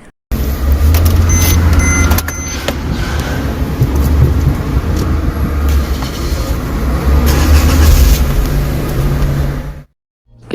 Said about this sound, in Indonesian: mari kita dengarkan dulu suara startup dari si espresso ini.